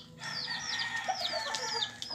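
Farm chickens clucking and squawking close by, a run of short overlapping calls over about two seconds with no one speaking.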